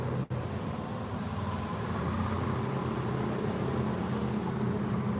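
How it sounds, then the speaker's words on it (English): A car engine runs steadily close by as one continuous low rumble, with a brief sharp dip near the start and no voices. "I hear an engine sound at the same time as it"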